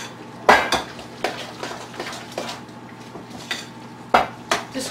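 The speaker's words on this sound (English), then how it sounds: "just give that a good mix" Utensil stirring vegetable torta batter in a bowl, with a few sharp clinks and scrapes against the side spaced through a quiet kitchen, close and moderately loud, no talking.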